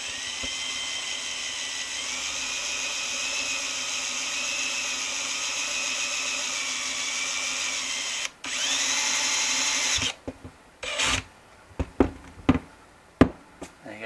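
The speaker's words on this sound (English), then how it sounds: "let's drill some holes" A power drill whines steadily for several seconds, pauses briefly, runs again, then stops, followed by a few sharp knocks and clatters nearby.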